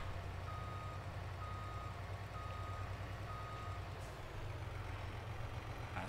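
A truck in Farming Simulator 22 hauls wastewater toward a sewage plant. Its low engine rumbles steadily while a series of evenly spaced reversing beeps sounds over it, faint and level.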